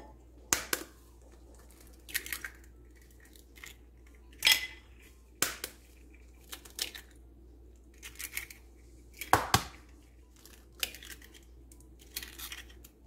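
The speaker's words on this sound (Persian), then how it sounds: "سه تا تخم مرغ داریم که اونها رو داخل یک کاسه میشکنیم." Three eggs are cracked into a bowl during a home kitchen preparation of eggplant kookoo, giving sharp, close taps and cracks spaced a second or two apart over a quiet background, with no talking.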